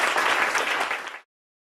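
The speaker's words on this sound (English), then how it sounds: "How about a little applause first?" An audience applauds at the close of a lecture, a dense, steady patter of many hands that stops abruptly after about a second.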